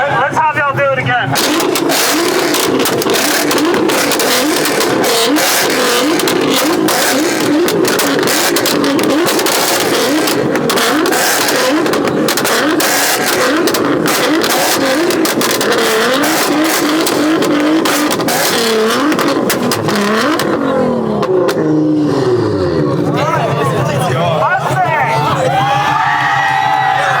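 A twin-turbo Nissan GTR revs hard at a two-step competition, its engine roaring loud and sustained with popping bursts, while a crowd cheers and an announcer talks over it before the revving drops away near the end.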